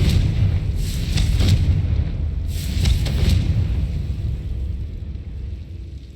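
Booming magical blast from the Confringo fire spell in the Hogwarts Legacy video game, two loud explosive bursts over a heavy rumbling low-end backdrop that slowly fades.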